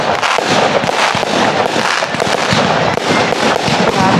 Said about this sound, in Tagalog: Grabe, ganda ng fireworks.